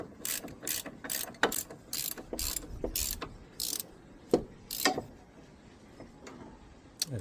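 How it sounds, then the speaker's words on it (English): Ratchet spanners, 18mm and 15mm, tightening bolts on the front suspension of a Ford Fiesta Mk7, giving quick bursts of close, crisp clicking in short runs with brief pauses between strokes. "we're going to be using a 18mm ratchet spanner on this side and a 15mm ratchet spanner on this side to tighten the bolts"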